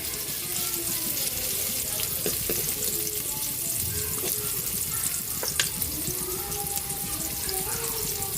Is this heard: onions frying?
yes